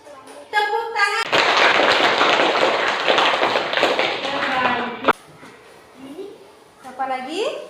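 A classroom of students bursts into loud, dense hand clapping for several seconds, ending abruptly with a sharp final clap, while a teacher's voice is heard speaking before and after.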